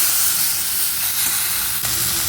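Spices sizzle in hot mutton fat for a green jackfruit curry, a loud, close, steady hiss and crackle throughout, with a brief scrape of stirring near the end.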